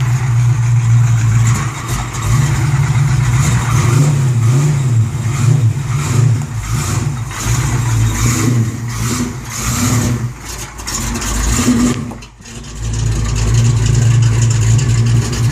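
A 1989 Ford Mustang GT engine rumbles loudly and close, its revs rising and falling in waves with deep throaty bass, dipping briefly near the end before surging back, with no talking.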